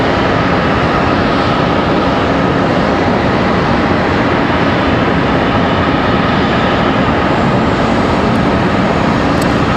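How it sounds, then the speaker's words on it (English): An ERJ regional jet sits at Charlotte Douglas airport ready for departure, a steady broadband engine roar filling the whole stretch, loud and constant without pauses or voices. "Got an ERJ ready for departure."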